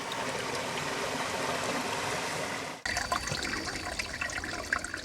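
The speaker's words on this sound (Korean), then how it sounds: "가재가 사는 계곡의 물은 사람도 마실 수 있는 물이다" Clear mountain valley water in Bukhansan rushes and trickles over rocks in a steady, close wash, with a brief cut midway before the flow continues with more splashing detail.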